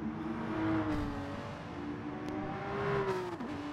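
A Nissan GT-R GT3 race car engine in Gran Turismo Sport, the game, holds a continuous loud roar with rising and falling revs as the car shifts gears and accelerates, with no talk.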